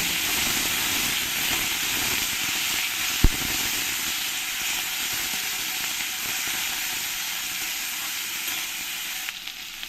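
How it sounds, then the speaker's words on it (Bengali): Small diced potatoes fry in hot oil with a loud, steady hiss and crackle, nearly unbroken, with a single sharp knock of a utensil early on and no voices. "তেলটা ভালো করে গরম হয়ে গেলে আমি এখানে কিছু আলু কেটে নিয়েছি ছোট ছোট করে এই আলুগুলো দিয়ে দেবো দিয়ে আলুগুলোকে আমি ভেজে নেব"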